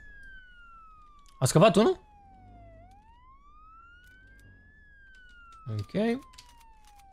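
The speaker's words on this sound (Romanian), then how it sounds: "Venim aici cu sirene, cu de toate." A police car siren in the Roblox game Jailbreak wails in a steady, slowly rising and falling tone through the whole stretch, with two short bursts of speech breaking in over it.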